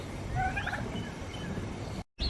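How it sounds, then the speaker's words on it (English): A wild turkey at the Oklahoma City Zoo gives a single rattling gobble near the start, moderately close, over a steady outdoor background hiss. "We got a wild turkey."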